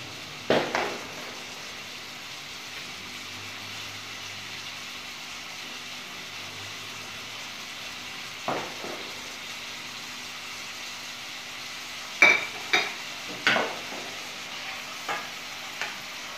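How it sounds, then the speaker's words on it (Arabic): Pizza filling stirred and frying in a pan: a soft, steady sizzle throughout, with occasional clinks and scrapes of the spoon against the pan, no talk. "نخلطو بهذا الشكل."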